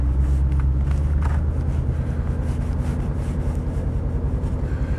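A Mercedes 280SE 3.5 W108 engine drones steadily from inside the car as it changes down gears, a low continuous rumble with faint road and wind noise, with no talking.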